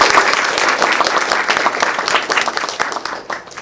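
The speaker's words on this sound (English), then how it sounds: "I want us to all join in applause for Keith Haring" A library audience, children among them, gives a loud, dense round of applause for Keith Haring, sustained clapping that slowly tapers toward the end.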